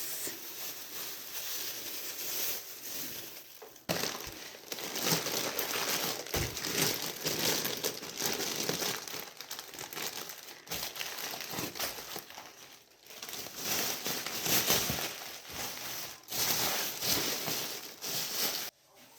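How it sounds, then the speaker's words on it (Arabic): Plastic bags crinkle and rustle continuously as salted fish (fesikh) is wrapped in several layers, loud and close, with bursts of crumpling separated by short pauses. "انا هلف دولت في كذا كيس"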